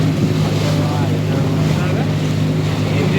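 A petrol-engine motorboat drones steadily at sea, a loud continuous low engine hum mixed with wind buffeting the microphone and rushing water, without pause throughout.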